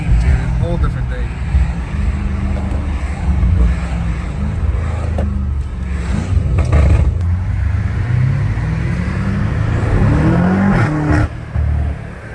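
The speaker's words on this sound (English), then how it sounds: "The Hellcat goes. Oh my goodness, that thing goes crazy." A Dodge Hellcat car engine revs and accelerates hard with a deep, loud, continuous rumble that surges across the whole stretch. Excited voices talk over it.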